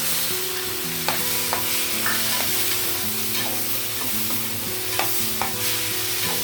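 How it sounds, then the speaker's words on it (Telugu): Tomato, carrot and onions fry in a pan for flattened rice pulihora, with a steady close sizzle. A utensil scrapes and stirs through it in repeated strokes. "ఇప్పుడు టమాటా కూడా వేసేద్దామండి మనం."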